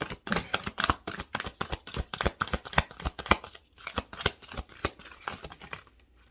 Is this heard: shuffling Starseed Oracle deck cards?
yes